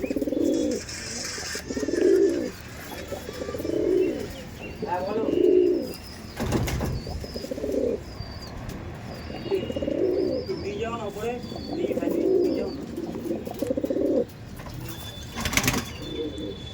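Madrasi pigeons coo in repeated rounded bursts at a steady rhythm close by, with faint chirps between and a brief rustle of wings.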